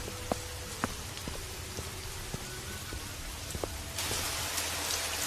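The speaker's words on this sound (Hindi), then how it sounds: "बारिश होने लगी।" Steady rain falls on an outdoor surface in cold, stormy weather with lightning, with a few louder drips standing out over the continuous hiss, which grows heavier and brighter near the end.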